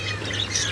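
Harsh, shrill squawks from parakeets sound nearby in a shop over a steady low hum, brief and continuous across the moment.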